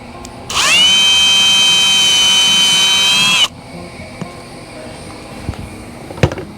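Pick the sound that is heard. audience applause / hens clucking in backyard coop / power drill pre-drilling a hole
power drill pre-drilling a hole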